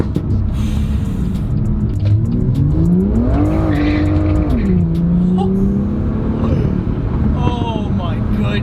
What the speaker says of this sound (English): It's cracks and pops and backfires on demand.